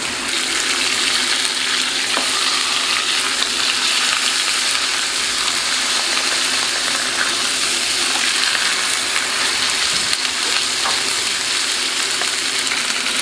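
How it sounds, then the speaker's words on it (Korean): Chashu pork being seared in a hot pan, a continuous bright sizzle and crackle with occasional pops, steady and close throughout. "여기는 육즙을 보호하기 위해서 한번 시어링을 해서 넣고 있어요."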